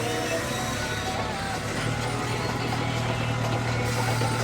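A 2016 Claas Arion 430 tractor with a front loader and an FPT engine runs smoothly at idle, giving a steady, fairly loud mid-pitched drone with a constant low hum and no talking over it.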